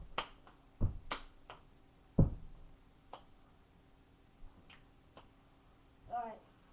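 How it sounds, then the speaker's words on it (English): Claps and foot stomps ring out in a step dance, sparse sharp cracks and a couple of heavier low thuds at an uneven pace, with a brief voice near the end. "And clap, stomp."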